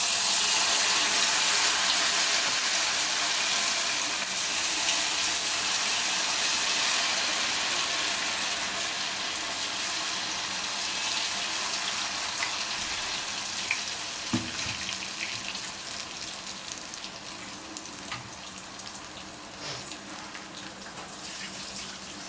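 Idli batter pakoda fries in hot oil in a pan, giving a dense, steady sizzle that slowly softens over time, with one brief clink near the middle.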